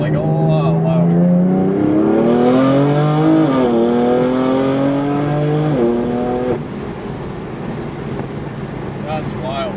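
BMW M4 with ARM resonated catless downpipes and an MPE exhaust revs hard, its loud engine note climbing and falling in pitch through several sustained pulls, close and dominant, before dropping to a lower steady drone.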